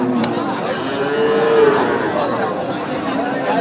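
Cattle at Ambari livestock market, with a single drawn-out cow moo rising from a constant murmur of crowd chatter and bustle.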